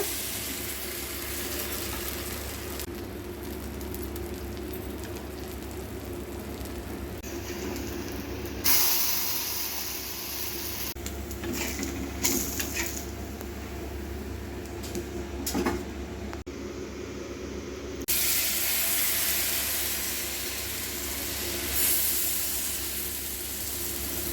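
Thick leftover-rice dosa batter sizzles on an oiled dosa pan tempered with mustard seeds. A faint, low hiss runs throughout, with louder bursts of sizzling swelling in at intervals and a steady hum beneath.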